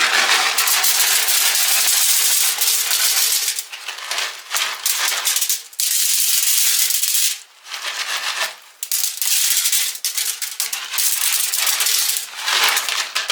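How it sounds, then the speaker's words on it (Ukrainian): Beech wood chips, about two handfuls, are poured into a foil-lined smoker in several bursts, giving dry rattling and rustling close by with short pauses between pours; no one speaks. "Щепу буду використовувати букову. Засипаю буквально дві жменьки."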